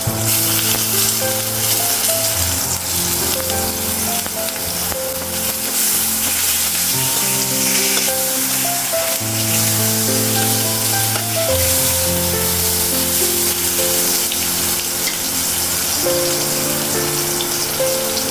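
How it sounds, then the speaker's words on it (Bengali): Eggplant (brinjal) frying in a pan with a loud, steady sizzle that runs continuously throughout, with occasional stirring noises layered over the bubbling oil. "এখন হচ্ছে বেগুনটা ভাজবো বেগুনটা লাগালাম"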